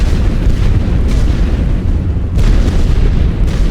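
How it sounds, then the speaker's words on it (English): Artillery shelling in The Great War: Western Front, a World War I strategy game, pounds continuously as deep, booming explosions roll one after another in a loud, rumbling barrage. "so I might use the artillery and blow it up a little bit"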